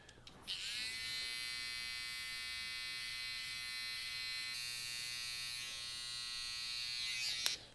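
Electric hair clippers run continuously through an undercut mullet haircut, a close, steady high-pitched buzz that starts abruptly and holds evenly for several seconds with no talking.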